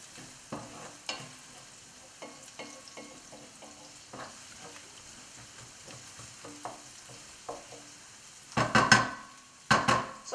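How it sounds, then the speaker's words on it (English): Dry urad dal cooks in a pan on the stove, giving a soft, steady bubbling sizzle with faint stirring clicks. Two louder bursts of sizzle come near the end. "dal is also boiling now"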